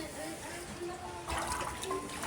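Floodwater pouring into a house, a steady wash of flowing and trickling water that swells louder partway through, with a faint voice in the background.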